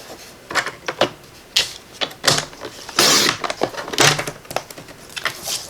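Paper cards trimmed down to size with a cutter, heard as a close series of crisp slicing swipes and sharp clicks in an irregular rhythm, each stroke short and fairly loud.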